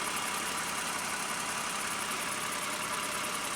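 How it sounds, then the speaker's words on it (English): Toyota Sienna minivan engine running, a faint, smooth and steady hum that holds even and continuous with no speech. "this engine is also extremely quiet"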